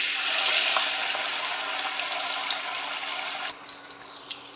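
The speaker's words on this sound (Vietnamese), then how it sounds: "giờ mình bắt chảo lên cho dầu vô mình chiên đậu hũ ha" Tofu frying in hot oil in a pan, a loud, dense sizzling hiss that eases slightly and drops abruptly near the end, leaving a quieter crackle with a few pops.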